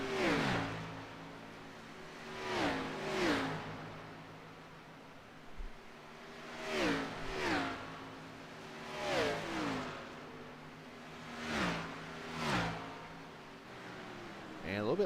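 Xfinity Series race cars on pit road at Darlington, engines repeatedly rising and falling as cars pass one after another at steady intervals, fairly distant, with a constant hum of crowd and track noise underneath.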